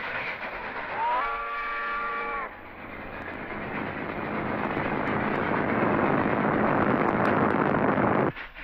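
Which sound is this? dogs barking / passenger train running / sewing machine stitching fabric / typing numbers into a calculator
passenger train running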